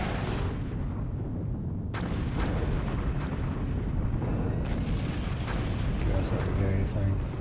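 Artillery cannon fire in Total Annihilation, a steady rumbling barrage of booms and low blasts rolling on throughout, dense and continuous with sharper pops near the end.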